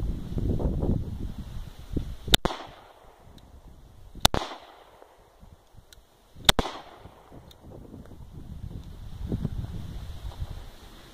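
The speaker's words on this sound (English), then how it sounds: "SIG P250, 9mm, also shooting Federals." Three sharp, loud 9mm gunshots from a SIG P250 pistol firing Federal ammunition outdoors, spaced about two seconds apart, each with a short echoing tail over wind noise.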